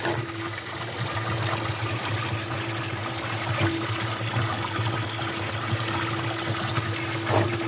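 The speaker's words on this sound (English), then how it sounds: "let's go look at the recovery tank, how the water looks when it goes in there" Water trickles steadily into the recovery tank of a carpet cleaner, a continuous close, soft gurgling flow with no voices.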